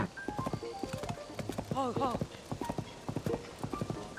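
Horse hooves clip-clop in a steady trotting rhythm inside a Nintendo Switch 2 video game, backed by game music, while someone talks and laughs over them.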